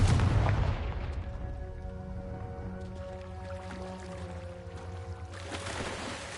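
A Confringo spell explosion in Hogwarts Legacy bursts with a heavy boom at the start, then decays into a long resonant rumble and tonal ringing, with debris-like crackles near the end.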